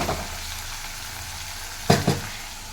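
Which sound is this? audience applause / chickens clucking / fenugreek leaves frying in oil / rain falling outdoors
fenugreek leaves frying in oil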